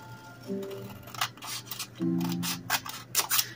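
Scissors cut down a paper insert for a pocket journal, giving a few quick crisp snips close by, clustered in short bursts with no talk.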